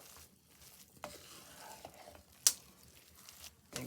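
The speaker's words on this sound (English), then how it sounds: "Give that a stir." Seafood cornbread dressing with pepper jack cheese stirred in a pan, soft wet squishing and scraping strokes with a few sharper clicks of the utensil, close and sparse.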